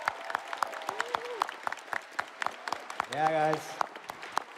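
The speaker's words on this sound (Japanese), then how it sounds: "let's have one more hand for the world first team right back there" An audience claps for the world-first raid team at a gaming event, with sharp, scattered claps continuing through the moment while voices talk and call out over them.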